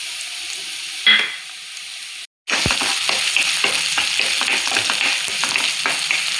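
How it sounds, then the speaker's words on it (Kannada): Onion hits hot oil already seasoned with cumin and garlic for a ragi vegetable soup: after a short quiet break a loud crackling sizzle bursts in and carries on steadily with stirring clicks, with no voices. "ಬಿಸಿಯಾಗಿದೆ, ಸ್ವಲ್ಪ ಜೀರಿಗೆ ಹಾಕ್ತಾಯಿದ್ದೀನಿ, ಬೆಳ್ಳುಳ್ಳಿ ಹಾಕ್ತಾಯಿದ್ದೀನಿ, ಇವಾಗ ಈರುಳ್ಳಿ ಹಾಕೋತೀನಿ"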